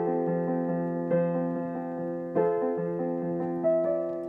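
Piano plays a slow sequence with held chords, and a brief dry, clipped moment where the sustain drops out between changes.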